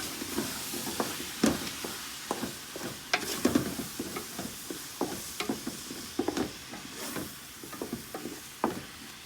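Seasoned meat with garlic, mushroom, black pepper and pink Himalayan salt sizzles in a pan for shepherd's pie. A spoon stirs and scrapes in irregular strokes, close up and alone over the steady frying hiss.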